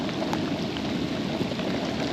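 Steady, dense rain pattering on the water of a hidden creek during a tropical storm, a continuous close hiss with no pauses.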